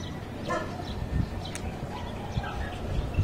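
A dog barks a few short times at a moderate distance on a hilltop in Binangonan, the barks brief against steady outdoor background noise.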